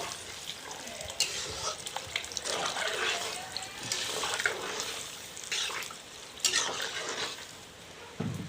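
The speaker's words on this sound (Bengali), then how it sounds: "এখন আমি জল দেবো। গরম জল দিয়েছি।" Hot water is poured into a pot of local chicken curry with potatoes as a continuous splashing and sizzling rush, close and fairly loud, with a few clunks along the way.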